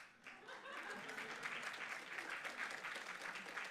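Academic staff in a conference audience clap, a steady wash of many hands applauding at moderate volume, somewhat distant, continuing evenly for several seconds.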